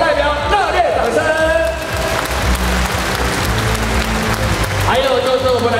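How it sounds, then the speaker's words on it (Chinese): Audience at an award ceremony in a large arena breaking into sustained applause, a dense wash of clapping from a big crowd, with an amplified voice speaking over it at the start and end. "给澳门回来的道中心代表热烈掌声"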